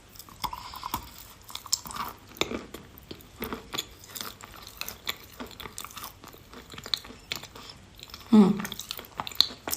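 Layered, puffy chalk being chewed close up, giving soft crunchy bites and squishy mouth sounds in an uneven rhythm, with a louder crunch near the end and no talk.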